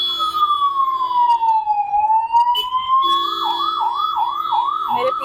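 An ambulance siren stuck in traffic wails loud and close, a long slow rise and fall sweeping into a rapid repeating yelp, steady and continuous with no talking.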